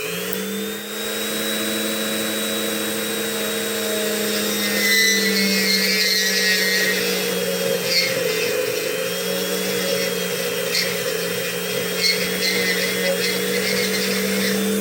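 A small rotary tool cuts a serration into the end of a lock pin spool, making a steady high whine with a constant drone beneath and slight scraping changes as it bites.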